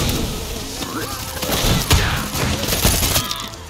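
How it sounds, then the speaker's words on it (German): Explosion in the video game Far Cry 6, a burst of crashing, thudding blasts with shattering debris over a few seconds, fairly loud and close. "Der ist gerade einfach vor mir explodiert."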